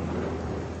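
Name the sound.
rain with thunder in the African bush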